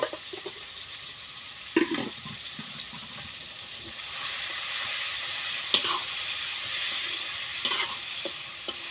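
Chicken stir-fried with holy basil, garlic, shallots and chilies sizzles steadily in a pan, with scraping stirs of the utensil at intervals and a louder, hissing fry in the second half.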